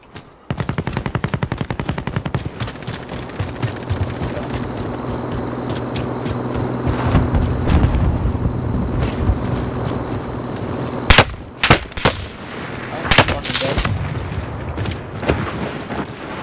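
Video game gunfire in a tense match: a long, loud burst of rapid automatic fire runs almost continuously, then breaks into scattered sharp single shots and short bursts near the end, with no talk.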